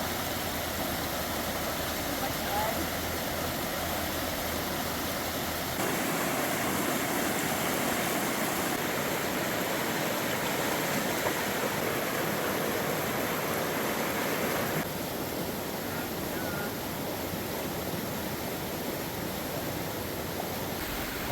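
A creek flows in a steady, broadband wash of water, close and continuous throughout with slight shifts in tone.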